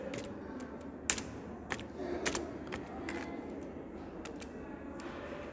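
Numbers being typed on a computer keyboard, a series of sharp, scattered key clicks at an uneven pace, fairly close, over a low background hum with no talking.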